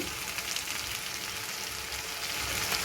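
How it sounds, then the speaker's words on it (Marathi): Garlic frying in a pan for Malvani masala, a steady close sizzle that stays even and unbroken from start to finish. "तर आता आपण ह्याच्यात घालून घ्यायचंय ही लसूण"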